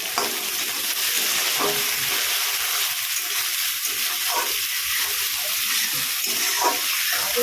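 Chopped garlic, green chillies and tomatoes fry in a hot pan for a mutton curry, giving a steady, close, unbroken sizzle throughout with no talking.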